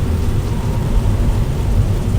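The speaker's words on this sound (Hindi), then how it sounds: "कार के शीशों पर बारिश की बूंदें लगातार फिसल रही हैं और वाइपर की आवाज़ उस तूफानी माहौल में घुली हुई है" Heavy rain drums steadily on a car's windows during a stormy night drive, with a low rumble of thunder and wind underneath; a loud, continuous wash of noise with no voices.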